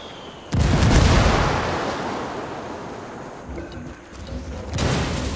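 A frag grenade blast in the video game Ghost Recon Wildlands, a sudden loud boom followed by a long rumbling decay, with a second swell of noise near the end.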